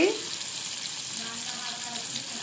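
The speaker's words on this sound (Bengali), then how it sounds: "বাংলা পুঁটি মাছ, বাংলা আর পুঁটি মাছ ভাজা হচ্ছে।" Small puti fish fry in a pan with a soft, steady sizzle heard close by, after a brief clatter at the start.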